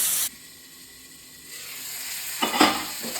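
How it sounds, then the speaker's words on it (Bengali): Tomatoes and potatoes frying in a pan, a soft sizzle that swells gradually, followed by a short burst of louder stirring scrapes toward the end, with no talk. "দেখুন টমেটো আর আলুটা ভাজা ভাজা হয়ে এসেছে"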